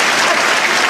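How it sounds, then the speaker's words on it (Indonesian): A church congregation applauds during a sermon, a dense, steady wash of clapping that fills the whole short moment at close, loud level. "Tepuk tangan bagi Allah kita."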